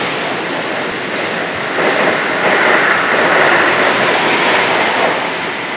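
An NJ Transit train runs along the Northeast Corridor, a steady rushing rumble of wheels on rail heard from inside, swelling slightly louder partway through with no talk.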